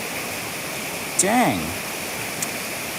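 Flowing creek water makes a steady rushing wash throughout, while someone briefly speaks over it near the middle.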